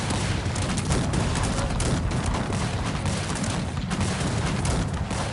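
Dense musket volleys crackle without pause in a Cossacks 3 battle with Sweden, many overlapping shots forming a loud, continuous fusillade with booming low rumble throughout.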